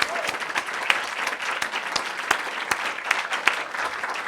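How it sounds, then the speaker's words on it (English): An audience applauds a panel discussion on designing for scale, steady dense clapping at moderate distance with scattered louder individual claps, continuing without talk. "Let's give them a round of applause."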